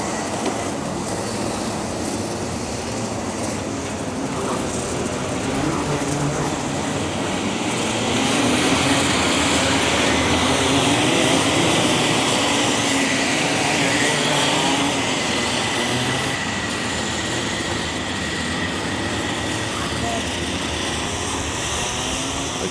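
Racing karts at a championship round drive a slow rolling lap, their engines a continuous droning buzz that swells a little midway as the pack passes nearer, then settles again.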